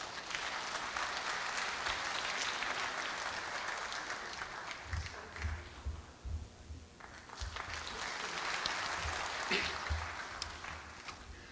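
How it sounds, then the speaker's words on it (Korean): Audience applause at Korea University's 110th anniversary ceremony as a foundation chairman is welcomed to the stage, steady broadband clapping that thins midway and then swells again, with low thumps underneath. "큰 박수로 무대 위로 모시도록 하겠습니다."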